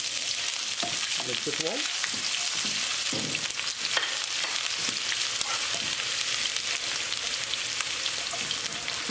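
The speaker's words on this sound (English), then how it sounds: "As the oil starts to heat up, add garlic and ginger." Garlic and ginger sizzle and fry in hot olive oil for a beef curry, a steady crackling hiss with occasional stirring scrapes, while a voice speaks briefly over the cooking.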